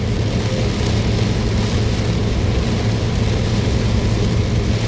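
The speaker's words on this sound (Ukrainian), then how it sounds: "Вже вітру такого ще немає великого, але дощ є капець." Steady heavy rain roars continuously with a low rumbling undertone, a dense wash of noise with no talk.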